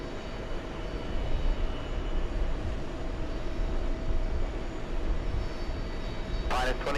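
An airliner from Poland crossing runway 22 right, a steady broad engine rumble at moderate distance that stays even throughout, ending with a short sharp noise.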